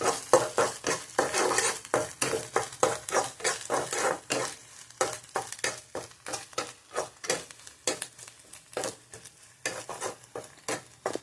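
Grated coconut is stirred and fried in a pan on low heat, making a rapid series of rhythmic scraping strokes over a soft sizzle, close and fairly quiet, without any talk.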